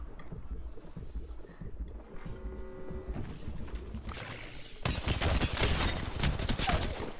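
Gunfire in the video game Octane, a burst of rapid shots that grows louder and denser in the second half over a steady background rumble.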